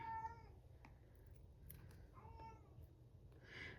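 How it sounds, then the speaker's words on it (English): A pet cat meows a few times close by, short harmonic cries spaced across a quiet room with low background hum and no talking. "I don't know why she is meowing"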